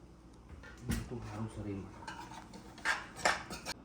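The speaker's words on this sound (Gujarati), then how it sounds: "થાળી વાળી કાઢીને હવે ખાવાનું ચાલુ કર્યું છે" Plates and metal utensils clatter as a home meal of flatbread and tea is served, with several sharp clinks and scrapes, louder near the end, and a voice speaking faintly in between.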